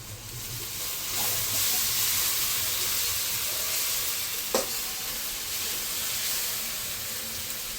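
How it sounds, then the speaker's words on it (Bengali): Steady sizzling hiss of ginger-garlic paste frying in a pan with fried onions, with an occasional stir or scrape of a utensil against the metal. "আমি একটু ভেজে নেব আদা রসুনের কাঁচা গন্ধটা যাওয়া পর্যন্ত"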